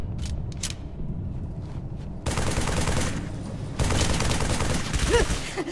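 Rapid turret gunfire in Halo 3: ODST crackles in dense, sustained bursts that intensify partway through, with scattered battle clatter and no talking.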